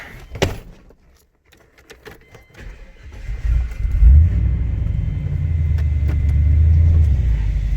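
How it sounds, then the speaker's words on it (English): An old Duramax pickup truck's diesel engine rumbles low and steady as it rolls slowly, building from a quiet start with a few knocks and clunks into a sustained close-up drone. "we're going to tow it up with the old Duramax there"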